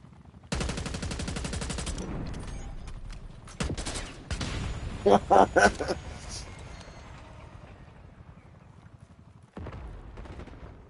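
Gunfire in the Black Ops 6 video game aimed at a helicopter: rapid bursts of shots, a louder cluster of reports in the middle, with someone talking over the action.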